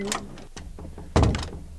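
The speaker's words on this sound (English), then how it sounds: "Oh, knocking on my door." Several dull knocks land on a door in the horror video game P.T., irregular thuds with one heavier bang near the end, over a faint background.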